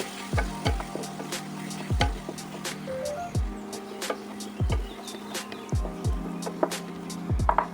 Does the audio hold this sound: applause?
no